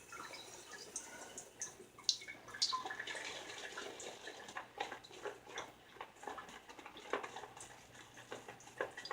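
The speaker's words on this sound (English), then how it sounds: "I think I need to add a little bit of water here to it." Water drips and trickles into shaving lather during a straight razor shave, with soft wet swishing and clicking of the brush in the bowl, close and continuous.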